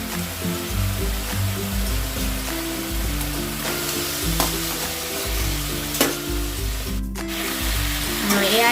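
Raw green banana and potato pieces stir-frying in a hot pan, a continuous loud sizzle with repeated scraping stirs throughout, no talking.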